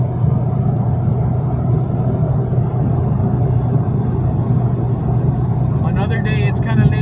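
A C6 Corvette Z06 with a rebuilt engine cruising on the highway at about 84 mph with its exhaust valves closed and the AC running; a steady, loud low cabin drone and engine rumble carries through, with no break.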